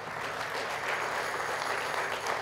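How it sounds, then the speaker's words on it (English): A church congregation claps together at a Sunday service, a brief, even wash of applause from a roomful of people with no voices over it. "Let's clap one more time for them"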